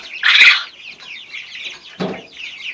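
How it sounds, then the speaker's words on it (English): A rooster crows loudly and close, a long hoarse call, followed by softer clucking and chirping from nearby birds. "that's the sound of the rooster"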